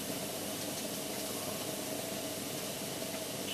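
A small Penny steam engine running on saturated steam fed through a short pipe from a boiler, giving a continuous, even hiss with a faint steady mechanical undertone throughout.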